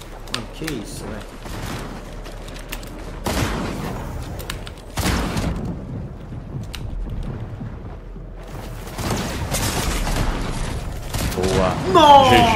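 Gunfire in a Fortnite duo match, bursts of shots and sharp blasts scattered through the clip, with several loud clusters, mixed with game effects and players talking over it.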